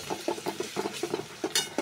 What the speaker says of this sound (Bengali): পেঁয়াজটা আমি নরম নরম করে একটু ভেজে নিলাম। এখন দিয়ে দেবো একটু আদা বাটা।